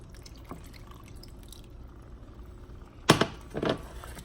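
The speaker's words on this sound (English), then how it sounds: "I have to put in my chicken stock." Homemade chicken stock is poured into a pot of Ghana jollof stew base, giving two short splashy pours late in the moment over a quiet kitchen background.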